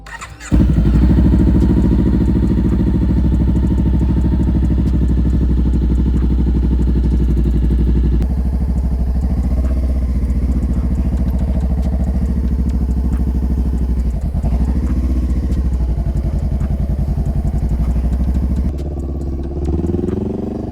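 Motorcycle engine starting and idling steadily up close on a first ride, a loud continuous throb with occasional clattering revs and a brief dip near the end.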